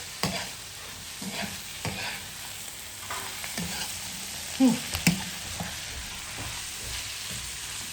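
Onion frying in a pan is stirred, with a steady sizzle under repeated scraping strokes of a utensil and a few louder knocks, heard close up.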